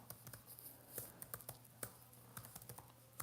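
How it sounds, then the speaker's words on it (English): Fingers type on a computer keyboard in quick, irregular bursts of soft clicks and taps, faint and close with no talking. "I'm going to type it down below"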